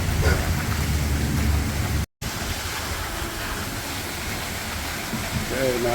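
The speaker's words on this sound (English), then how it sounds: "crazy wind, rain, hail, a little bit of everything out here" Storm outside a hotel in Fremont, Nebraska, with heavy rain and wind roaring steadily and a dense, hissing wash that breaks off briefly and then resumes, with faint voices underneath.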